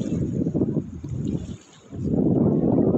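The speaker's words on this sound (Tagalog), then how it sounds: "Malakas yung alon sa kabila guys" Strong sea waves wash in at a beach with a low broadband rush, surging, easing briefly, then building again, steady and fairly close with no voices.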